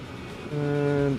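A train in the Transport Fever 2 game arrives with a short, steady horn-like tone that starts partway through and holds for under a second over faint background rumble.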